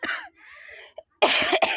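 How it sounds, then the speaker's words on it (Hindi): Several harsh coughs close to the microphone: one at the start, a weaker raspy stretch, then two loud coughs in quick succession. "खांसी आ रही है, तबीयत नहीं ठीक है"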